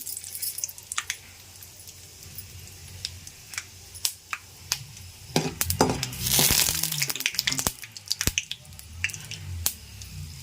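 Raw peanuts dropped into hot oil for a tangy citron pulihora: an irregular, crisp crackle of pops and spatters that swells in the middle, close to the pan.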